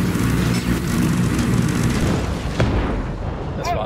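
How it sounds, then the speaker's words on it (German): A video game explosion erupts as a continuous heavy rumbling blast, loud and close, with a sharper crack near the end before it begins to fade. "Ich muss weg. Ich explodiere gleich."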